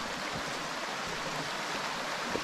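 Dutchman's Creek, swollen after rains, rushes steadily along a hiking trail, a constant broadband wash of flowing water heard up close with no voices.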